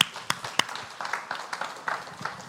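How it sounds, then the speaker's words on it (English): A scattered audience at a Unity church gathering claps in a thin, uneven round, with a few sharp individual claps standing out over the sparse patter. "Give her a round of applause."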